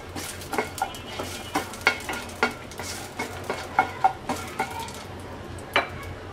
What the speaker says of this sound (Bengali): শুকনো মরিচটাকে আমরা হালকা ভেজে নেব।